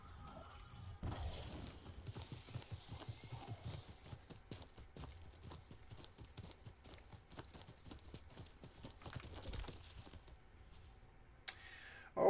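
Galloping horse hooves in a horse race inside an MMO video game, a rapid run of clip-clop beats, quiet and continuous, with a brief sharp sound near the end.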